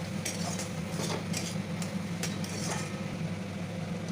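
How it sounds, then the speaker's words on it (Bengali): Spices with cumin powder stirred in a pan, a utensil scraping and clinking against metal in irregular strokes over a soft steady sizzle, close and clear. "সব কিছু দিয়ে আরেকটু ভালোভাবে নাড়ি চাড়িয়ে নেব"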